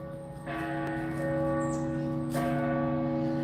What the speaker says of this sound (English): that bell is loud as hell